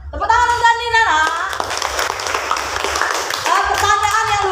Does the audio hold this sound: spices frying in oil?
no